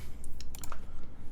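Keystrokes on a Keycult 2/65 mechanical keyboard in ocean grey clatter in a quick irregular burst of crisp clicks, close and distinct over a low background hum.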